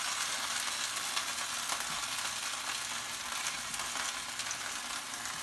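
Seasoned pork butt sizzles and fries steadily in a hot pan, a constant crackling hiss with no talking.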